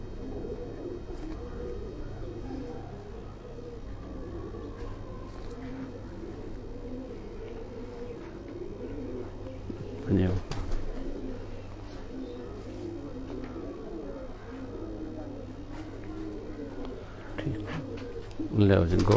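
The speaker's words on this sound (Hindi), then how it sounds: "कसूरी कबूतर दे कुंदे दा तुहानू शौक करा रहे हैं।" Kasuri pigeons coo in soft, overlapping low murmurs that continue steadily through the whole stretch, set against a constant low hum, with a couple of brief louder bumps partway through and again at the end.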